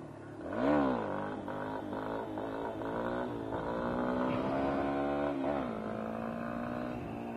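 A motorcycle revs hard while popping a wheelie on a street in Mexico, its engine whining up and down in pitch through several surges, close and loud, with no talking.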